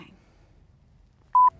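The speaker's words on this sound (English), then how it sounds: "I just got a notification" A single short electronic chime from a marketplace app alerts a new offer, one clean tone sounding alone against near silence.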